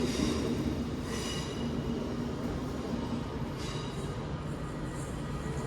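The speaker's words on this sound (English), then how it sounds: "Then this is our train here." An Avanti West Coast Pendolino train rumbles steadily nearby at Stafford station, with a constant roar of wheels on rails and faint high squeals; no voices.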